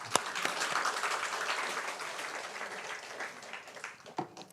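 Scattered applause from a church congregation during a Sunday evangelism revival service, moderate and steady with a few sharper claps near the start and end.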